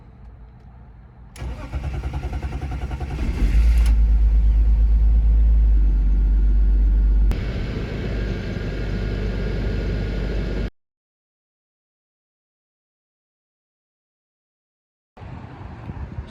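A BMW E46 with new spark plugs and its secondary air pump deleted cranks and fires up, then settles into a loud, steady idle that drops to a lower hum before cutting out. The sound returns near the end.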